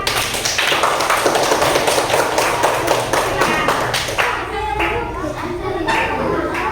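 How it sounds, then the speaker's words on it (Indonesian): A classroom of students in an Indonesian school claps for a group about to perform a role play, sharp rapid claps rattling along with children's voices mixed in. "Ayo tepuk tangan untuk kelompok 4."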